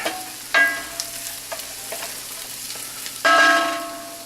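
Andouille sausage warming in a hot pan, a steady soft sizzle with two louder surges of spatter and scraping as it is stirred, plus faint clinks of the utensil against the pan.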